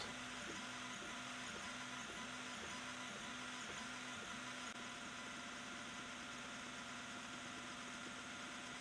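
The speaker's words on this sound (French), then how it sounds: "Là, on est en temps réel pour que vous vous rendiez compte de la vitesse de gravure" A Longer Ray5 10W diode laser engraver works an image into wood, its gantry motors whirring in a steady, rapid back-and-forth stepping rhythm under a constant fan hiss, close and unbroken.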